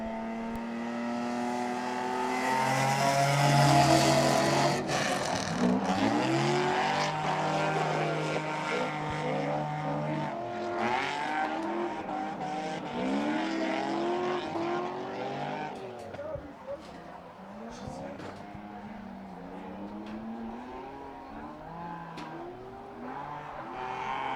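A truck drifts at a grassroots motorsport event, its engine howling and revving hard with rising and falling pitch, bursts of tire squeal mixed in, loud and close throughout, with commentators talking underneath.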